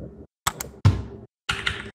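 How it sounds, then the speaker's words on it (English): Computer mouse clicking during a Minecraft game session: a few sharp, close clicks and clacks in separate bursts with silent gaps between them, keyboard-like in character. "I'm gonna click my mouse so you can hear me click this"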